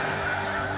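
A dense flock of snow geese on an Arkansas hunt keeps up a continuous roar of overlapping honks and yelps, loud and unbroken throughout the brief moment.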